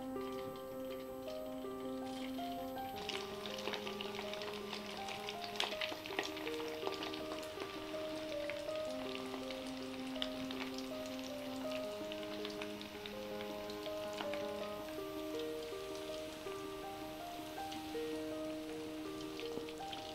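Chicken manchurian balls deep frying in hot oil over a medium gas flame give off a steady, dense crackle that runs the whole time beneath prominent background music.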